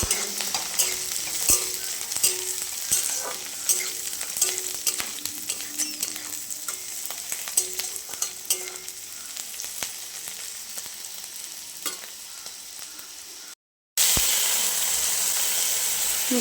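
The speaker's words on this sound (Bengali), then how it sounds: "দেখুন, ঘন্টটা সাঁতাল দিয়ে নিলাম।" Pumpkin, gourd stems and potato ghonto being tempered in a pan hiss and sizzle closely while a spatula scrapes and taps steadily; after a brief silence, a louder burst of steamy sizzling follows.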